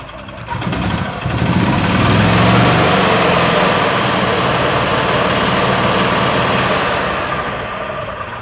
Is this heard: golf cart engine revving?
yes